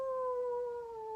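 A person imitates a wolf howl in a werewolf yoga pose in a living room, one long, steady, faint tone that slowly sinks in pitch and is heard alone.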